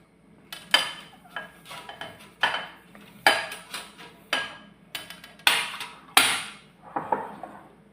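A metal pizza tray is handled in a kitchen, giving a series of sharp clanks and scrapes in an irregular rhythm, close and fairly loud, with no talking.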